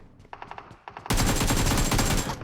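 Sustained automatic fire from an AK rifle in PUBG Mobile, loud and close, a rapid unbroken burst filling the second half after a few lighter clicks and taps.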